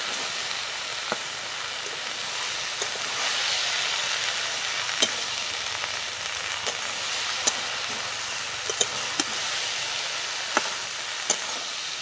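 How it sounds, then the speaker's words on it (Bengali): Fried crabs are stir-fried in a curry in a pan, producing a steady soft hiss of frying broken by occasional sharp clicks of a spoon against the pan. "আর ভেজে রাখা কাঁকড়াগুলো দিয়ে দেবো। এবার একসাথে ভালো করে কষিয়ে নেব।"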